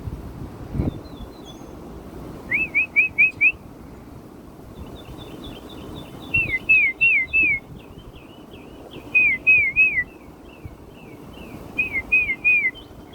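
Songbirds outdoors in Fort Lauderdale, Florida give repeated bursts of quick high chirps and whistled notes in short phrases, clear against a soft breezy background.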